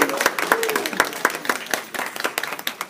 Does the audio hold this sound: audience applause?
yes